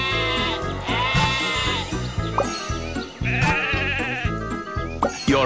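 Cartoonish sheep bleats ring out over bouncy music in the Thomas and Friends: Magical Tracks game, several short baas repeating across the clip.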